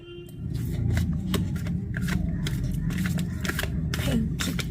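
Tarot cards shuffled by hand make a steady, close riffling and flicking sound, with a few sharper snaps over a constant low room hum.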